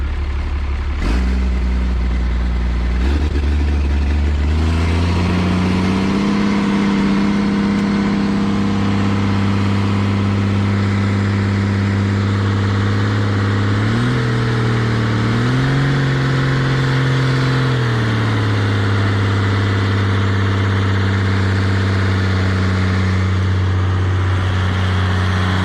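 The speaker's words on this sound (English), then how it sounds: "Oh, and look at that. It fires right up." An old survival truck that sat for almost three years cranks and fires right up, then settles into a loud, steady, deep idle with a couple of brief revs, close and alone with no talking.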